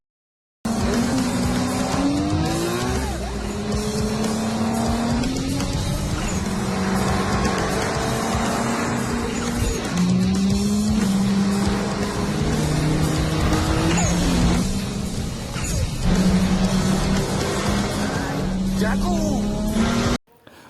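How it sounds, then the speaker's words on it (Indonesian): Street racing cars speed along a public toll highway, engines revving through rising and falling gear changes with tire squeals, loud and sustained under dramatic film soundtrack and narration. "mereka dua saling beradu skill dan power kecepatan mobil masing-masing"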